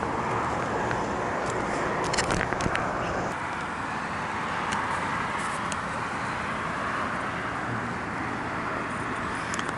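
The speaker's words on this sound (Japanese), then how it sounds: "やっぱハイウェイの車の音が気になるね、少し" Distant highway car traffic hums steadily beside a quiet lakeside rest stop in Canada, a broad, constant roadway wash with a few faint clicks and no talking.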